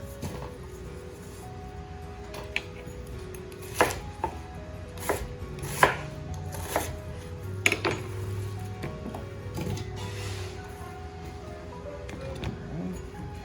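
An onion being chopped with a knife on a board to flavor a sauce for pan-seared Atlantic salmon: a run of irregular, crisp chops close by, with occasional clinks of kitchen utensils and no talking.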